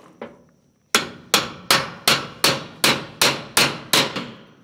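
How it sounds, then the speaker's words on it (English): A steel hammer strikes repeatedly on a pry bar pulling nails from a steel rib of a tractor shed, nine or ten sharp, evenly spaced metallic blows, loud and close, after one lighter tap. "using the old hammer and pry bar trick"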